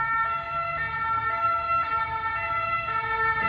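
An emergency siren wails steadily and loudly, cycling in a regular repeating pattern with a rumble of traffic underneath.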